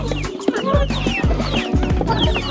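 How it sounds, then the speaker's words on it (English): Backyard chickens clucking repeatedly in short, close, overlapping bursts, with busy, lively calls filling the whole stretch and no talk. "it is delicious for chickens"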